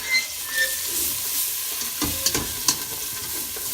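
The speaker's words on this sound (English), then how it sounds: "The seeds is actually where a lot of the heat is. Okay. So let these fry off." Chopped chilli seeds fry in a pan with a soft, steady sizzle. A couple of light scrapes and clinks from stirring stand out near the end.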